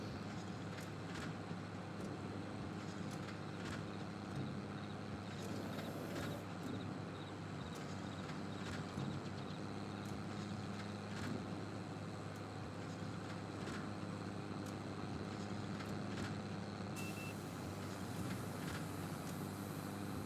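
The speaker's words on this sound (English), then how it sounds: "Rocking my John Deere 7810. Really nice tractor with a really nice baler on the back that makes all these cool noises that I love." A John Deere 7810 tractor pulling a baler in a farming video game, its engine droning steadily and loudly throughout with mechanical baler noise layered on top and no talk.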